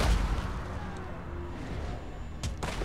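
Artillery fires in a video game: a steady low battle rumble carries a couple of sharp, loud booms near the end.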